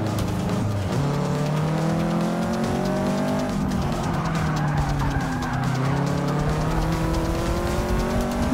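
Race car engine in Forza 6 during a night race in career mode, several cars roaring and shifting with rising and falling revs and some tyre squeal, loud and sustained with no talk.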